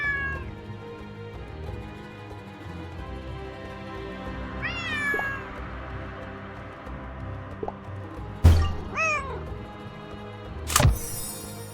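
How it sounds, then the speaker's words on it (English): A cat in the Nancy Drew game Lights, Camera, Curses gives several drawn-out meows over a quiet, hollow background, with a couple of sharp clicks or knocks in between. "There's that cat again."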